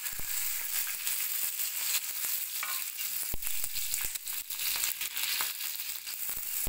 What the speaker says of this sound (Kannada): ಮೆಣಸಿನ್ಕಾಯಿನ ಈಗ ಹುರ್ಕೋತೀನಿ.